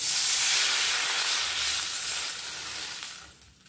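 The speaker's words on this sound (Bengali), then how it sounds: "এবার জল দিয়ে দেবো।" Water hits a hot pan of vegetables for a Bengali vermicelli tiffin dish, setting off a loud, steady steam sizzle that slowly softens and fades toward the end.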